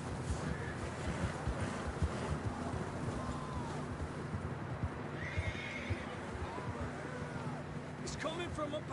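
Horses whinny and their hooves clop steadily over loud wind in the Red Dead Redemption 2 video game on PS5, with voices talking over the ride.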